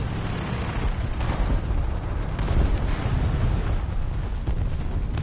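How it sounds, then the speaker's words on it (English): A War Thunder tank battle explosion, a loud, sustained rumbling boom that fills the whole stretch with dense low-end roar and no clear pauses. "That was an explosion."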